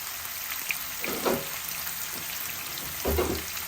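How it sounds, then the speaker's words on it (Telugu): Potato pieces fry in a pan, giving a continuous sizzle with a couple of louder clatters as they are moved. "ఇప్పుడు ఈ ఆలు బాగా ఉడుకుతూ ఫ్రై అవ్వాలి"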